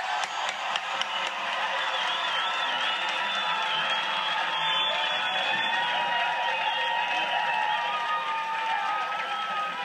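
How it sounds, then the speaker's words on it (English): A large crowd at a live event in Exeter cheers and applauds continuously, producing dense clapping with whistles and shouts. "Please join me in giving them a great cheer"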